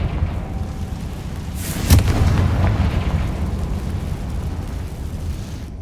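A Confringo fire spell from the Hogwarts Legacy video game bursts with a loud boom near the two-second mark, followed by a rumbling, crackling decay under steady ambient game noise.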